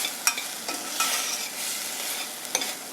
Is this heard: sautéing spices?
yes